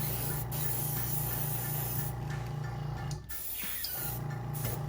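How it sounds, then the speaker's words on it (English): A steady, fine airy hiss of an airbrush spraying paint continuously on a plastic model kit of a Dornier Do 17Z bomber, fairly quiet, with a brief dip partway through. "You just spray it."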